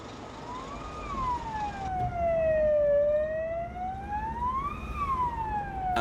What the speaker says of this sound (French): les pompiers civils foncent dans les rues de Daloa